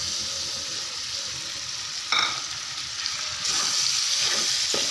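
Tomatoes dropped into a frying masala in a pan, a steady hissing sizzle that jumps louder as they hit the hot oil, followed by a few stirring scrapes, close and with no talking.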